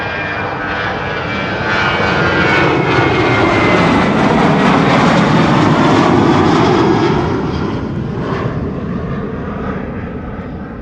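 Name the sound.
TUI Boeing 737-800 jet aircraft departing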